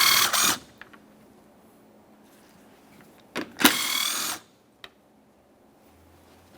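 Short whirring bursts come from a 10mm power tool backing out the upper mounting bolts of a front license plate bracket on a 2014-2019 Toyota Corolla bumper cover, separated by quiet gaps and light clicks.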